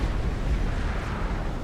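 A power generator blows up in a Supreme Commander battle, giving a loud, sustained, rumbling blast that fills the whole moment.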